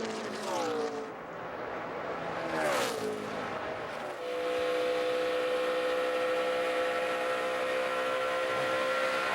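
NASCAR Nationwide Series race cars at the 2012 Kansas Lottery 300 at Kansas Speedway roar down the backstretch: engine pitch sweeps as cars pass nearby, then settles into a loud, sustained high-revving drone.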